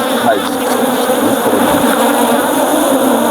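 An active honeybee hive in Nigeria buzzes loudly and continuously, a dense, close swarm drone holding steady throughout with no voices over it.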